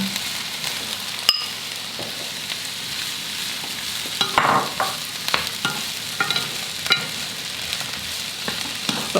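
Peas and vegetables frying in a pan, a steady sizzle and crackle with occasional stirring scrapes and clinks, close and continuous, no voices.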